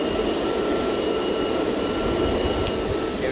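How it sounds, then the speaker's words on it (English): Strong wind roars while riding a cheap belt-driven electric skateboard at speed, a loud, steady rushing noise close to the microphone with a faint motor whine underneath. "It's also extremely windy today and conditions are not perfect"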